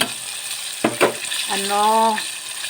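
Chicken drumsticks deep frying in oil, a loud steady sizzle with bubbling, interrupted by a couple of sharp clatters, while a voice talks over it.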